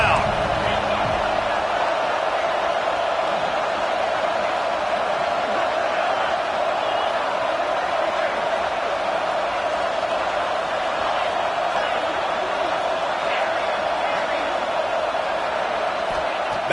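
A Georgia vs Texas college football stadium roars continuously on a third-and-goal play, a dense sustained crowd din running under the game commentary.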